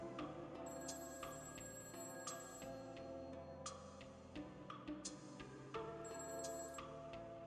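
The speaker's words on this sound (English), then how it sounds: "I heard my phone ring" A mobile phone rings on a quiet day off: a faint, repeating electronic ringtone with regular bright tones and no voices.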